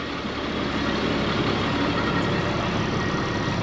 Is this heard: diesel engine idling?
yes